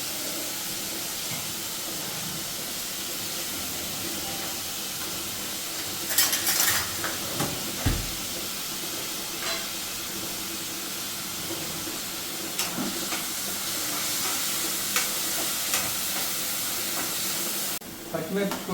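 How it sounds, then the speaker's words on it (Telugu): Onions frying in a pan, a soft continuous sizzle with occasional clinks of a spoon against the pan and a few louder knocks, while someone speaks over it. "ఉల్లిపాయలు బాగా వేగాలి"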